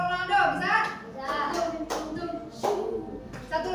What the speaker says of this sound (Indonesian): Kita kasih tepuk buat Ronaldo, bisa?